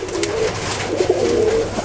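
Indian Musaldom pigeon cooing close by in a steady, continuous low warble with small rises and dips, with no voices over it.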